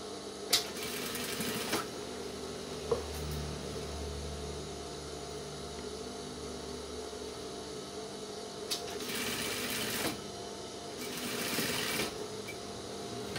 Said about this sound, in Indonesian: Kita jahit sama sampai ke bagian ujung, kurang lebih 2 mili dari pinggiran kain